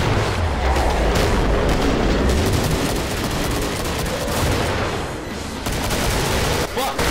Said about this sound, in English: Get ready to throw a grenade.